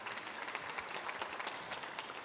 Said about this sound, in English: So let's give Stevie a round of applause.